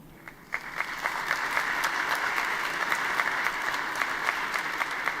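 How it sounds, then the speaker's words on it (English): Delegates at a political party congress applaud, a broad hall-filling wave of clapping that swells quickly after a few scattered early claps and then holds steady at a moderate distance, without speech over it. "again with a big applause."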